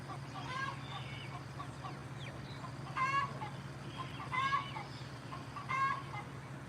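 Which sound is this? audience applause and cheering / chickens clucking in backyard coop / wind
chickens clucking in backyard coop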